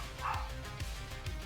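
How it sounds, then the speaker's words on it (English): Maple the dog gives a few quick yipping barks indoors, close to the mic and short, over a low room hum. "Maple, why are you barking?"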